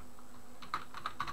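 A handful of quick keystrokes tap on a computer keyboard, soft close clicks in a short irregular burst after a moment of near silence, with no voices.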